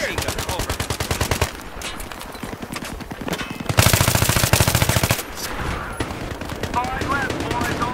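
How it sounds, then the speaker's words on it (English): Machine gun fire in Battlefield 3 on Noshahr Canals comes in loud, rapid bursts that open the stretch and return several times, with brief louder volleys and mixed gunfire in between. "Be aware, I've spotted a hostile machine gun."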